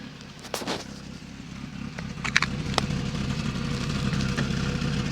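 A VW Golf or Polo engine with an over-fuelling MP9 fuel injection fault runs steadily with a low rumble, its pitch and loudness creeping up as it revs, with a few sharp clicks and ticks along the way.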